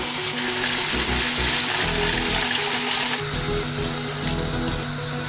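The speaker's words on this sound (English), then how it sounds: "So now we add water, half of it." Water poured into a pan of frying vegetables, including celery, while making lagman, with loud continuous sizzling and bubbling that shifts partway through as the liquid hits the hot pan.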